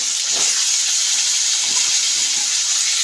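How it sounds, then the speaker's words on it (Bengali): Potato, carrot and kohlrabi fry with whole cumin in hot oil, giving a loud, steady sizzling hiss that runs unbroken and close throughout. "গাজর আর ওলকপি দিয়ে এটাকে একটু ভাজবো।"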